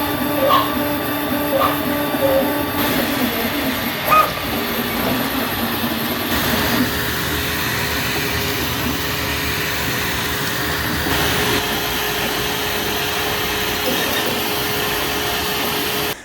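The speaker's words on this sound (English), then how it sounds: "and then sent it to the printer." A 3D printer prints a part for a homemade bench power supply, giving off a steady mechanical whir and hum with faint tonal motor whine that runs unbroken throughout.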